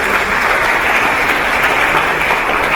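A seminar audience on Indonesia's climate commitment claps continuously, a dense, loud and even applause filling the room with no pauses or voices.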